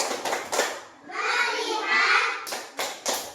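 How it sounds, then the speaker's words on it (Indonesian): Elementary school pupils in an Indonesian classroom do a rhythmic concentration clap, a few sharp group claps at the start and end with children chanting in unison between them. "tepuk konsentrasi"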